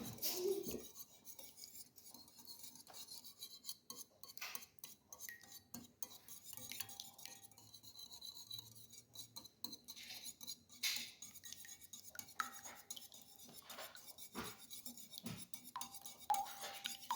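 Egg and milk whisked in a bowl with a utensil, giving continuous soft scraping and clinking strokes against the bowl, fairly quiet and steady throughout.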